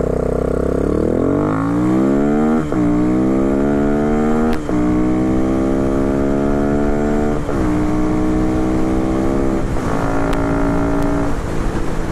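A dirt bike or supermoto motorcycle engine revs up and shifts through several gears while riding, a loud buzzing note climbing and dropping in repeated steps, heard close and alone.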